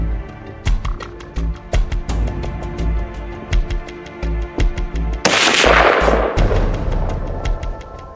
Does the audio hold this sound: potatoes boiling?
no